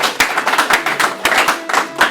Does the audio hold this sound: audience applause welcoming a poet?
yes